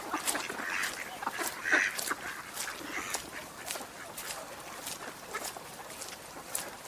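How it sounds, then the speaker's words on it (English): A large flock of about 200 ducks at Kings Pond, quacking repeatedly and overlapping from near and farther off, over a steady outdoor wash of sound. "There are about 200 ducks here that I'm very slowly walking through."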